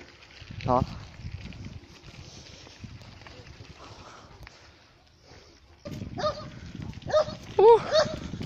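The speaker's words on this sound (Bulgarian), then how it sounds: "Куче." A dog barks outdoors during a bike ride on a country path, with a few sharp barks at mid-distance. People talk over and between them.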